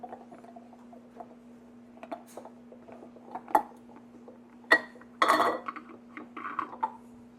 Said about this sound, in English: You're just going to take that and screw that right onto that lid.